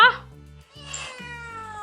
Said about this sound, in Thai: แม่เอาแมวมาอีกแล้วเหรอ